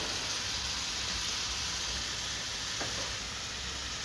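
Butter garlic mushrooms cooking in a pan, a loud, dense, continuous sizzle heard up close with no talking.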